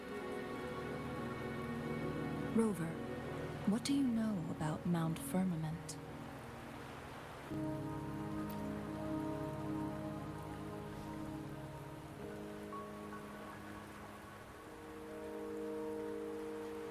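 Steady rain falls in the video game Wuthering Waves, a soft continuous patter running beneath a voice speaking and a background music bed.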